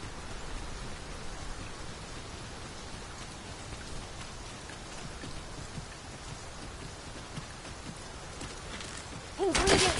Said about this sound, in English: We must be really down on our luck to get caught out in such a downpour.